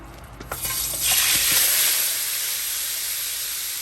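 Meat hits hot oil with a crackle, then a loud, steady sizzle fills the pan and holds without letup.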